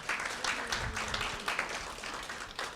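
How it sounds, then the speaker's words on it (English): A moderate round of applause rises from an audience at a chapter membership meeting welcoming new members, uneven claps overlapping steadily, with faint crowd murmur underneath. "let's give them a big round of applause"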